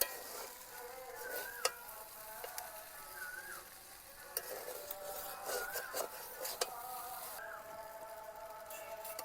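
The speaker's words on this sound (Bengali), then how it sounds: "দুই থেকে 3 মিনিট কিন্তু একদম লো আঁচে নেড়ে নিয়েছি" Maggi noodles stirred in a pan over very low heat, a soft steady sizzle with intermittent scraping strokes and light clinks of the utensil against the pan, no talking.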